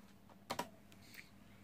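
A few quick keystrokes on a ZX Spectrum +3 computer keyboard, two close clicks followed by a fainter one, quiet against a low background hiss.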